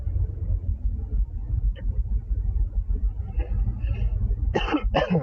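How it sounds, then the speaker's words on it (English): A low, muffled rumble runs along, then two sharp, close coughs break out near the end. "I apologize for any coughing that ensues."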